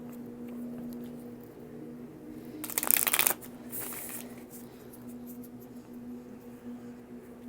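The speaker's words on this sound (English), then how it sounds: "That was a good shuffle." A quick riffle shuffle of tarot cards, a short crisp burst followed by a softer second riffle, close up in a quiet room with a faint hum.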